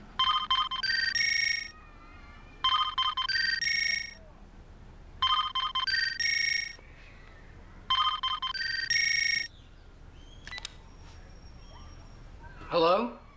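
Telephone ringing unanswered in repeated bursts, each a warbling electronic double ring separated by pauses, fairly clear and close, with faint background noise between rings.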